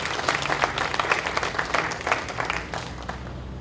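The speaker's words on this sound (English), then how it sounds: "Can we give them another round of applause?" An audience applauds the National Dance Company at a Caribbean vaccination launch event in Guyana: dense, steady clapping that holds at an even level throughout, close and full, with no voices over it.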